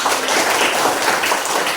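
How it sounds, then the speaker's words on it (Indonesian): A school class claps together at the end of an Indonesian language lesson, a loud, dense burst of hand claps close by that holds steady for a moment. "tepuk tangan buat kita"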